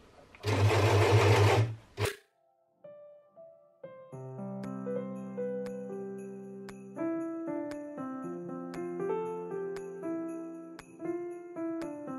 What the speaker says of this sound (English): use your normal sewing machine